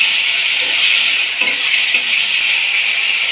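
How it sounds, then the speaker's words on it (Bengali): Cut moringa drumstick stalks go into a hot pan of spiced fish curry base and are stirred, giving a steady close sizzle with a few soft scraping stirs over it. "এবার আমি কেটে রাখা সজনে ডাটাগুলো দিয়ে দেবো দিয়ে একটু নেড়ে দেবো"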